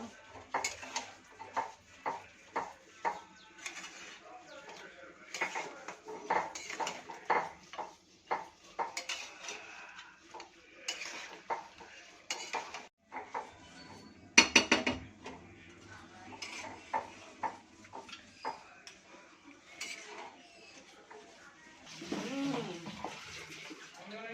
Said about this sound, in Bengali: মশলা দিলাম, দিয়ে এবার নাড়াচাড়া করবো